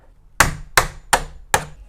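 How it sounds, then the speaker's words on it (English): A small hammer strikes the end of a Phillips head screwdriver to drive out a door hinge pin, giving four sharp, evenly spaced metallic taps close up, each with a brief ringing decay, alone without talk. "all you need for that is just a very small hammer and the end of a Phillips head screwdriver"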